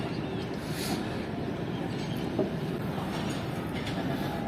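Karakoram Express passenger train running toward Lahore near Faisalabad, a steady close rumble of wheels and carriage noise filling the whole stretch, with a faint knock partway through and no voices.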